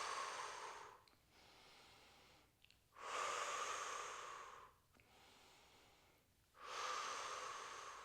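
Breathing during a no-equipment Pilates workout: slow, loud breaths close to the mic, long airy inhales and exhales alternating in an even rhythm with short pauses, and no speech.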